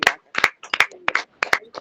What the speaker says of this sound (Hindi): आइए हम एक उच्च ताली के द्वारा परमेश्वर की महिमा